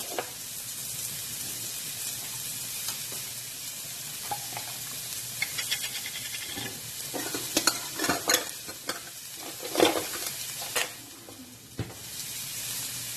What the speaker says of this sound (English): And we're just going to let this saute, and I'm going to add about a teaspoon of garlic to this as well.